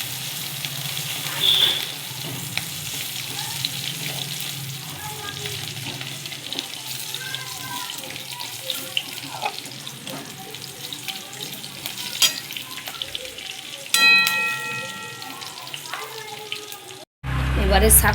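Garlic paste and green chilies fry in hot oil in a pan for a bottle gourd greens dish, a steady soft sizzle with occasional stirring clatter, then a sharp burst of clattering near the end.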